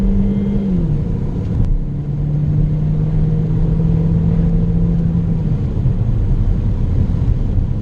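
A 2017 Chevrolet Sonic engine revs up steadily under acceleration, a loud, continuous drone heard from inside the car, rising then holding pitch before easing off near the end, with no talk over it.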